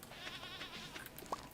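Goats bleat in the farming video game Stardew Valley, a couple of short, wavering game-sound calls over a soft ambient background, with one sharper, brief chirp near the end.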